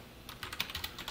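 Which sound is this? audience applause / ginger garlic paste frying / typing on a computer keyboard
typing on a computer keyboard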